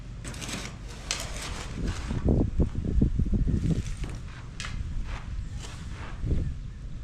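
Strong wind outdoors in a yard where potting mix is being made, a steady broadband rush buffeting the microphone with gusts swelling midway, along with faint rustling of blowing leaves.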